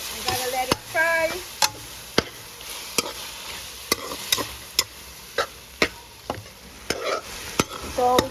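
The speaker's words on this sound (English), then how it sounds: "I put the fish in this mixture. I gotta let it fry." Catfish fries in a pan. A low sizzle runs throughout, broken by regular sharp ticks and clacks of a utensil against the pan, about one every half second.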